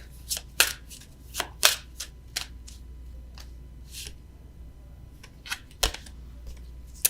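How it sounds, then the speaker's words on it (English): Oracle cards shuffled by hand for a tarot reading, a series of crisp riffling and tapping bursts at uneven intervals, close up over a low steady hum with no talking. "let me get an oracle card for you"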